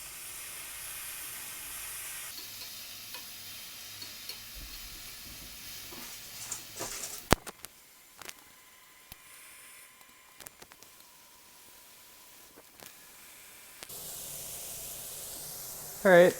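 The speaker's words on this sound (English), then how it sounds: "you can see that the water is starting to steam off" Gourmet mushrooms fry in a pan as their water steams off, giving a soft, faint sizzling hiss that fades into quieter stretches with a few light clicks and pan sounds.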